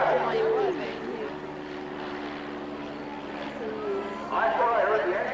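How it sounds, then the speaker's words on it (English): A vintage propeller aircraft engine drones steadily at a distance and wavers unevenly, under someone talking throughout at an outdoor air show. "I don't hear that engine running too well."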